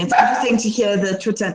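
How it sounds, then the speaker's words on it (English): Pet dogs bark and yip in the background at home during an online meeting, mostly underneath close conversational speech. "I'm so sorry about my dogs."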